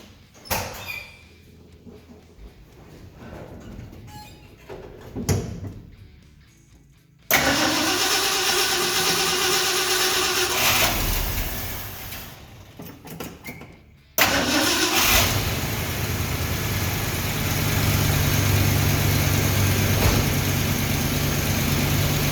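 An old vehicle engine, Old Blue, cranks and bursts into life, falters and is restarted, then settles into a loud, steady warm-up idle after some quieter handling noises at the start.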